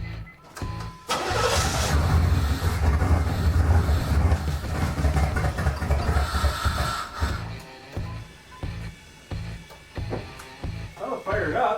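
A Pontiac Firebird Trans Am engine, primed with brake cleaner during a restoration, cranks and fires up, then runs roughly and unevenly at close range, loud and continuous before settling into an uneven idle.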